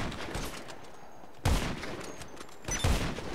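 Gunfire in GTA Online: a steady rattle of shots with two louder bursts, close and harsh, and no voices.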